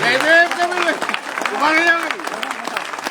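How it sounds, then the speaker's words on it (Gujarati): Applause welcoming Kapilbhai at a Dalit movement rally in Balasinor, Gujarat, with clapping mixed with loud cheering voices that swell and ebb across the whole stretch. "કપિલભાઈ માટે જબરદસ્ત તાળીઓનો આવકાર"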